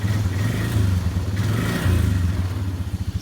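A four-wheeler ATV idles as it warms up on a trail, its engine a loud, steady low chug with a slight rise partway through and a pulsing throb near the end, close by.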